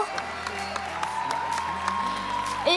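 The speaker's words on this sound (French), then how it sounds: "Et on peut applaudir Jonathan Rivaux pour cet beaucoup. exercice d'endurance." An audience at a graduation ceremony applauds, with a dense wash of clapping and a few cheers at moderate distance. A faint steady tone runs underneath.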